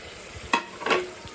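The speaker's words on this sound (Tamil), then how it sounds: "இது நல்லா வதக்கணும்" Ginger garlic paste and tomato being sautéed in a pan for fish kulambu, a low sizzle broken by two sharp scraping strokes of a spoon, close and brief, no talking.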